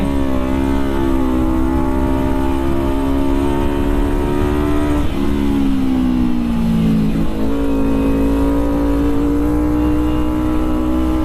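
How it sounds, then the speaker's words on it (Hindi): A superbike holds a loud, steady engine drone while racing a Bullet motorcycle on the road, its pitch dipping briefly mid-clip and then settling back. "भाई साहब बुलेट वाले से रेस लगी पड़ी है मेरी।"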